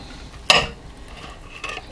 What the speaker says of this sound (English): you cut against the grain and you get nice slices